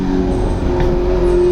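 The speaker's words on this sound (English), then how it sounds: "Wait for that motorcycle to pass." A motorcycle goes by fast on the road outside, its engine drone running loud and steady through the moment amid ongoing traffic rumble, with no one speaking.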